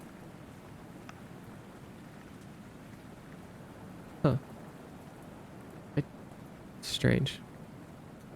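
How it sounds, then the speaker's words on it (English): Steady rain ambience playing on a livestream, soft continuous patter in the background, broken by a few brief clicks and a voice speaking briefly. "Has it just been rain sounds?"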